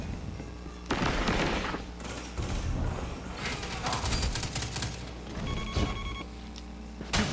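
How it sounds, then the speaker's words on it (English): Hand cannon fire in a Destiny 2 competitive multiplayer match comes as loud, sharp shots in quick succession, layered with other weapon fire, impacts and game effects. "We'll try our hand cannon here."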